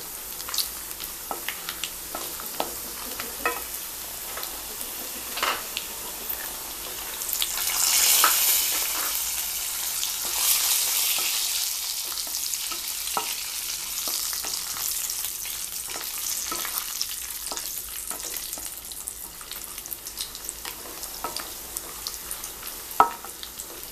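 Cashews and raisins fry in hot oil in a pan while preparing semiya payasam, giving a steady close sizzle that swells louder partway through, with scattered stirring scrapes and clicks and no talking.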